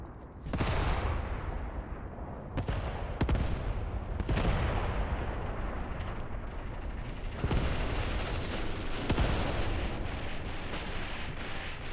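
Mortar shell explosions in a Graviteam Tactics battle, several heavy booming blasts at irregular intervals with rumbling tails, loud and close over continuous battlefield noise.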